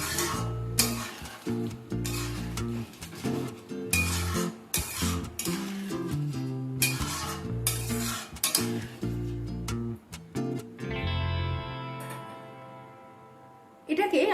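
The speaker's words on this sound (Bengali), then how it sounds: "একবার সমস্ত কিছু ভালোভাবে মিশিয়ে নিচ্ছি।" Chana dal with green chillies being stirred in a pot for a vegan dal, with metal spoon clinks and scrapes in an irregular rhythm, set against a steady musical background.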